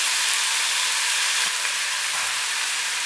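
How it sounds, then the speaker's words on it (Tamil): Tomato, fennel seeds and spices sautéing in a pan give off a loud, constant close sizzle, with faint stirring knocks beneath the hiss and no voices. "இதை நல்லா வதக்கிக்கிறேன்"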